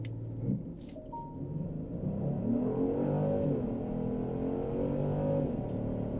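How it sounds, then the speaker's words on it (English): A 2025 Genesis GV70 in Sport Plus mode pulls away from a launch-control start, its engine note climbing through rising harmonic sweeps with a brief gear-change dip, steady and loud with no talking. "got to put myself into the Sport Plus mode, and then I want to do launch control"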